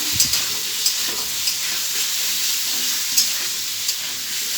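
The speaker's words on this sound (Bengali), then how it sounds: "এবার আমি একে আলুগুলো সব দিয়ে দেবো। আলুগুলো ভালো করে নেড়ে দেবো।" Potatoes sizzle in hot oil in a pan while being stirred for a homemade egg and potato curry, giving a steady bright hiss broken by a few soft scraping knocks from the stirring spoon, close and fairly quiet, with no talk.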